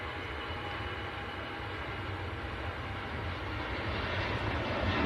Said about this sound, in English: here goes the Star Alliance, Lufthansa